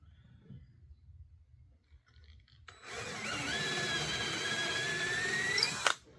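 A power drill bores a centered hole into a wooden toy piece after a quiet lead-in with faint handling noise, whining steadily and loudly up close for about three seconds before cutting off abruptly.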